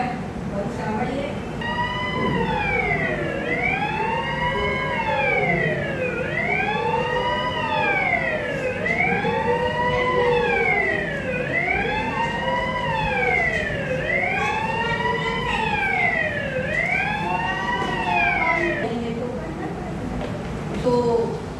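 An ambulance siren wails in a steady, repeating rising-and-falling pattern throughout, loud and close, with a constant low traffic rumble underneath.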